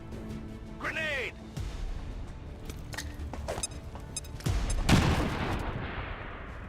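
A grenade blast and bursts of gunfire in the XCOM 2 video game, with a whistling shell and scattered shots leading into a loud, broad explosion near the end, over background game sound with a voice present.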